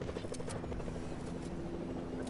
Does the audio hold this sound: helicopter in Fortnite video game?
yes